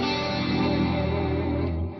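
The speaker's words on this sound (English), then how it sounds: "Or maybe I want it a bit more distorted." An electric guitar run through a Headrush multi-effects unit with the gain raised for heavier distortion rings out as one sustained, saturated chord, holding steady and then fading slightly at the end, with no talking.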